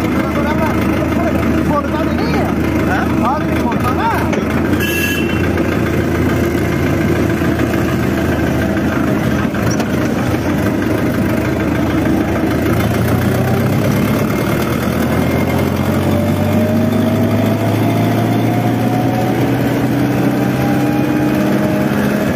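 A Sonalika tractor engine idles in a steady, loud, continuous low drone outdoors, with a slight change in pitch late on and people talking over it.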